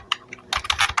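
Quick bursts of keystrokes on a computer keyboard while entering a name in PowerPoint, a few light clicks followed by a faster cluster of taps, close and clear with no talking.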